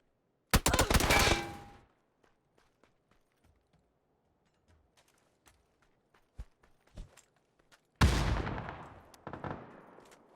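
M4 rifle gunfire in PUBG during a pro scrim match: a loud burst of rapid automatic shots, then scattered faint footsteps and distant pops, and another heavy volley of fire near the end.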